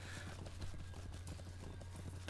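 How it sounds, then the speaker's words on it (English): Horse hooves clip-clop in the fantasy online game The Lord of the Rings Online (LOTRO), a quick, even patter of light hoof beats over a steady background hum, fairly quiet with no talking. "So what do I get here? I get a horse now."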